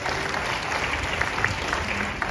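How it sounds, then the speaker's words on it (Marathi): A crowd of parents and teachers at a primary school parents' meeting claps together in a dense, sustained round of applause lasting the whole short moment. "एकदा जोरदार टाळ्या होऊन जाऊ देत"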